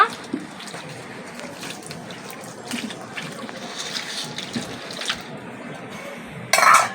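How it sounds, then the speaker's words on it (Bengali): A palm fruit is washed by hand in a vessel of water, giving a steady close sloshing and splashing that ends in a brief louder splash. "তালটাকে আমি খুব সুন্দর করে ধুয়ে নেব।"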